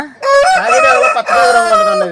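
A gamecock rooster weighing over three kilograms crows loudly and close, one long strained call with a rising start and drawn-out wavering end.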